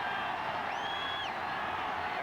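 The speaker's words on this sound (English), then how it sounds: "the crowd urging on the Denver defensive unit" Fans at a 1982 Chargers at Broncos football game in Denver send up a distant, steady roar for the home defense, with a faint whistle-like tone rising briefly in the middle.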